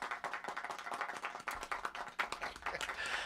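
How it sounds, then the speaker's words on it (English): Audience clapping at a live jazz trio's anniversary show, a quick run of close, individual handclaps from a small crowd, fairly faint and uneven in rhythm. "Well, what about the applause?"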